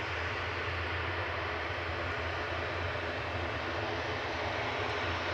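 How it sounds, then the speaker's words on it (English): A loud airliner passes at Manchester Airport, its jet engines giving a sustained, broad roar that holds steady and close throughout, with no talking. "it's time for our first proper loud plane"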